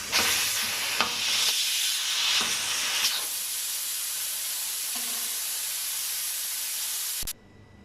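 Steam rushes out of a pressure cooker holding mutton karahi once its weight is removed, a loud steady hiss with a few sputtering pops that carries on for several seconds and then stops abruptly.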